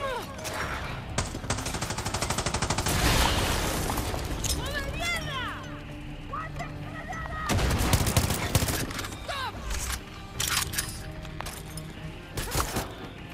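Gunfire in the game Far Cry 6, bursts of loud shots and booming impacts in several clusters across the clip, mixed with game effects and someone talking over it.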